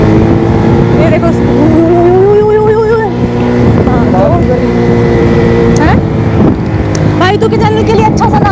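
A motorbike rides and brakes on a mountain road during a trek to Kareri Lake, its engine rising and falling in pitch, loud and close, with wind buffeting and people talking over it.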